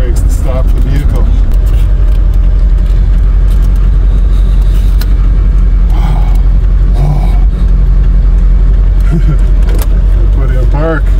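Vehicle towing a trailer with failed brakes and a blown tire, driving on the road; steady loud engine and road rumble fills the whole stretch, with people talking over it.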